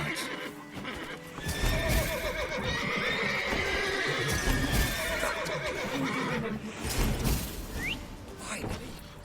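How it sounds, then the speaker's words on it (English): Several horses in The Witcher 3 video game neighing and whinnying over a steady clip-clop of hooves, loud and close, with a dense layered game soundscape running the whole time. "Gotta call all the horses before they wake the guards."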